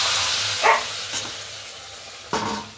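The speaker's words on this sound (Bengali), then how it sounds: "এই পাট শাকের ঝোল, পাট শাক সমেত ঢেলে দিলাম।" Jute leaf broth, leaves and all, poured into a hot pan tempered with black cumin: a brief splashing surge of sizzle, a softer hiss, then a second loud burst of frying, close by with no talk.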